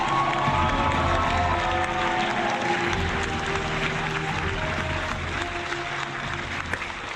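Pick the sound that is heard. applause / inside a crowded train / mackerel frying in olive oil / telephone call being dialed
applause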